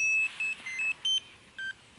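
An Immersion RC Mojo 230 FPV drone plays its power-up tune: a short melody of five or six clean electronic beeps at different pitches, each distinct and separated by brief gaps, sounding alone.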